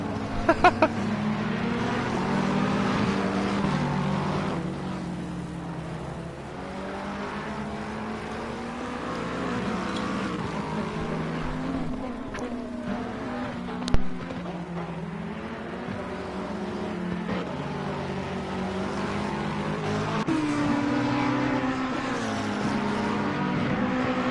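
GT3 race cars, including a blue and orange McLaren GT3, racing closely at the Nürburgring, their engines a steady loud roar throughout with a brief sharp burst midway.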